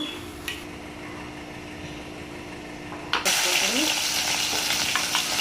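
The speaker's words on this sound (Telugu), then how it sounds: "ఇప్పుడైతే ఆయిల్ అయితే కాలిపోయింది తాలింపు గింజలు అయితే వేసేసుకుంటున్నా" Tempering seeds tossed into hot oil; a quiet background gives way after about three seconds to a sudden, loud, close burst of crackling sizzle that carries on steadily.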